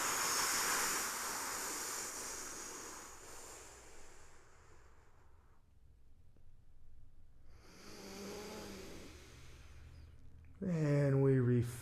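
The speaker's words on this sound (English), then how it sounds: "We blow the air out again." Forceful breaths blown out of the lungs during a breathing exercise make a long, steady rush of air noise that fades toward silence, followed by another breathy stretch and then a voice speaking at the end.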